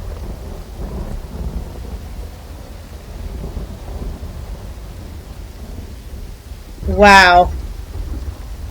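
Rain and rolling thunder fill the rainy cleft in the Uru video game, a low, steady storm rumble throughout with a louder crack-like burst near the end, and a brief exclamation from a person.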